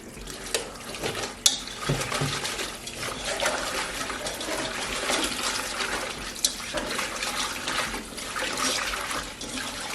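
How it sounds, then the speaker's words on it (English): Water pours and splashes continuously into a basin, with a few sharp knocks and clatters breaking through the rushing flow. "And we're going to pour water."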